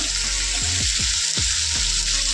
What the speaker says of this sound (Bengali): লবণ দিয়ে একটু হালকা করে ভেজে নেবো